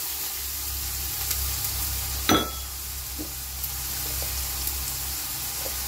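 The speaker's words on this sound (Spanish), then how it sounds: "tengo mi aceite calentito para hacer mi sofrito" Onion and carrot sizzle steadily in hot oil for a sofrito, with a constant close frying hiss and a brief clatter partway through.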